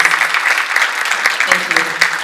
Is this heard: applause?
yes